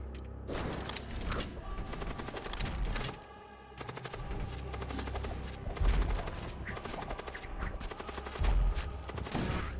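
Artillery fire in the Void War space combat game, a dense fusillade of rapid booming shots and clattering impacts, loud and continuous with brief lulls and heavier blasts near the end.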